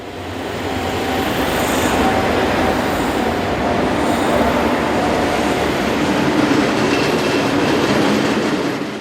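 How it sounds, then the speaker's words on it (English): A pair of ex-DR electric locomotives passes heading east, a steady, loud rumble and rolling wheel noise with faint clickety-clack, holding close and continuous throughout with no voices. "We were pleased to capture this pair of ex-DR electrics on film."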